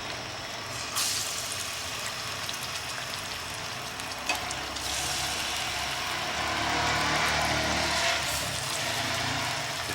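Marinated rohu fish shallow frying in hot oil for a Bengali-style fish curry, a steady, moderately loud sizzle running throughout with brief louder crackles and a slight swell near the end, no voices.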